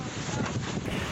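Tornado wind tearing through Bantul during a storm, a dense, steady roar of gusting wind buffeting the microphone, loud and close for about a second.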